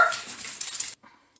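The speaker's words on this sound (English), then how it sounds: "Doggy drama." A dog lets out a short, high whimpering whine close by in a kitchen, then falls quiet with a faint yip at the end.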